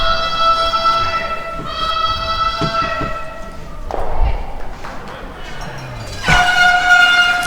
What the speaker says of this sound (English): Oh, we got air horns out there now.